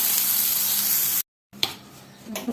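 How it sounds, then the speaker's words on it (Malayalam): Capsicum wilting in a hot pan gives a steady hiss of frying, which drops out for a moment before quieter sizzling and brief stirring clatter resume. "നമ്മൾ ക്യാപ്സിക്കം അതിൻ്റെ കൂടി ഇട്ട് വാട്ടാം"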